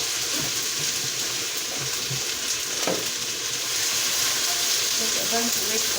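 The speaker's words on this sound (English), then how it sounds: "This cowboy oil smells so good. So I'm going to add my onions as usual." Onions sizzle and fry in cowboy oil in a pan, a steady crackling hiss with occasional stirring clatter, while a voice talks softly over it.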